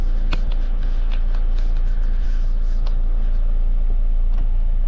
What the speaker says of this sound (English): Apart from it being a noisy diesel.